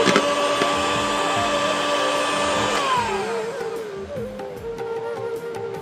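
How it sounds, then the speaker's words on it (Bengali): An electric mixer whips cream for chocolate velvet cupcakes with a loud, steady motor whine that drops in pitch partway through, as if the mixer slows or the cream stiffens, running continuously up close. "শুধু হুইপ ক্রিমটাকে আমি হুইপ করে নিচ্ছি"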